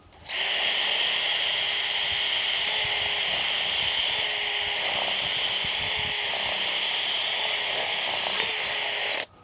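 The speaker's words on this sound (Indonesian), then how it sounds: "kita pakai bor cordless saja" A cordless drill whines steadily at high speed while boring into hard wood, loud and close, running continuously for several seconds before stopping.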